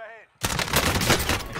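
Gunfire in Call of Duty Cold War Warzone erupts after a brief pause, dense rapid shots bursting loud and continuous over game noise, with a voice faintly heard at the start.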